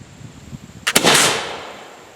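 A rifled muzzleloader loaded with shot fires once outdoors, a sharp close blast followed by a booming roll that decays over about a second, after a short stretch of quiet background.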